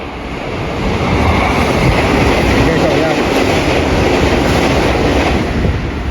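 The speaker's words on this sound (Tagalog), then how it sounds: "nakita nyo yung train na yun, napakabilis" A fast train rushes through a station in Japan, a loud, steady roar of wheels and rushing air that swells within the first second and holds at close range for several seconds.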